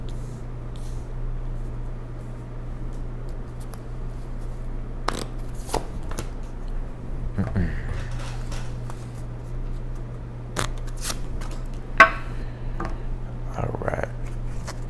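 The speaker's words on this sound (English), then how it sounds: "let me pull the rest of these cards here for you" Tarot cards shuffled and pulled by hand, soft riffling and scattered crisp card snaps and slides, close and fairly quiet over a low steady hum, with brief murmured speech.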